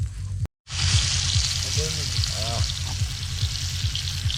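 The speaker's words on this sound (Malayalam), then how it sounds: "നമ്മുടെ ആദ്യത്തെ മീനെ നമ്മൾ അങ്ങോട്ട് വെച്ചു കൊടുത്തിട്ടുണ്ട് കേട്ടോ" Red snapper fish is laid into a hot pan and fries with a loud, steady crackling sizzle close by, after a brief silent cut, with faint voices in the background.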